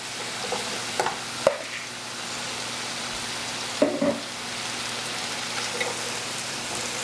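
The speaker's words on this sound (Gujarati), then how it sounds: "આપણે સ્ટર ફ્રાય કરવું છે હાઈ ઉપર" Sugar snap peas and asparagus stir-fry on high heat over a tabletop stove, seasoned with soy sauce, giving a steady close sizzle with a few sharp stirring clatters and no talk.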